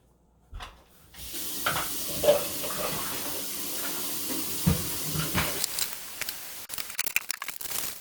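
Steady hiss and bubbling of water at a rolling boil in a pot on the stovetop, with a few soft clinks and bumps near the end.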